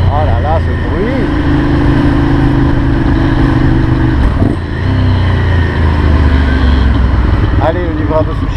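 A Ducati Monster 796 motorcycle's 800 cc twin-cylinder engine drones loud and close at a steady pitch, with a brief dip midway, while someone talks over it throughout.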